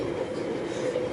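Interior of a Lastochka passenger train riding to Svetlogorsk gives a steady, low rumbling hum of the moving carriage, continuous and moderately loud, with no distinct clicks.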